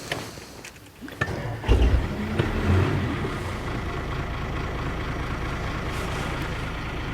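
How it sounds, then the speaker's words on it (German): A rusty Chevrolet camper truck engine, not a V8, rumbles and then revs up, rising from a lower idle to a loud, sustained, deep roar that holds steady nearby. "Micha hin und weg vom Motorsound"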